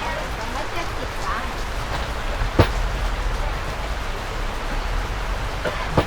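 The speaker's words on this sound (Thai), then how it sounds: "ขนาดฝนตกนะครับ" Steady rain falls outside a durian shop selling Rayong Monthong durians, a constant dense hiss with a couple of sharp drip or tap transients, heard alone throughout.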